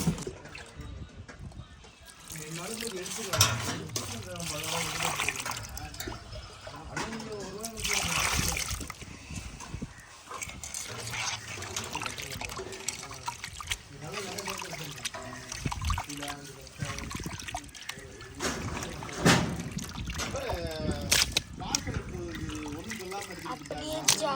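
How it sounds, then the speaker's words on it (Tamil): Squid being washed and rubbed by hand with rock salt in water, wet splashing and trickling through most of the stretch, mixed with an almost continuous voice talking. "கனவாவையுமே நல்லா உப்பு போட்டு வளைச்சி கழுவணும்."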